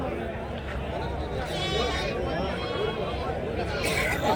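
Sheep and lambs bleat amid the hubbub of a busy weekly sheep market, with wavering bleats rising over constant crowd chatter and nearby talking voices.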